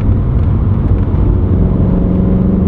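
A decatted BMW M3 cruises at 70 mph: a steady, loud low drone of engine and road noise that holds constant without revving.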